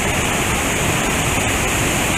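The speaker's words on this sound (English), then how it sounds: "Waterfall's massive." A massive waterfall roars near Ithaca, New York, a loud, continuous broadband rush that fills the whole clip with no other sounds.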